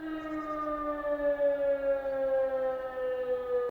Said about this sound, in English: I have another air raid siren, but sort of descending, as it says right there.